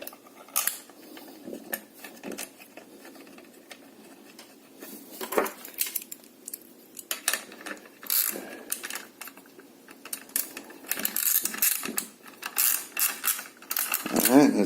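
Small metal screw being driven back into the case of a 79cc gas bike engine, with scattered close clicks, scrapes and metallic taps of the tool and part, uneven and busy with no talk.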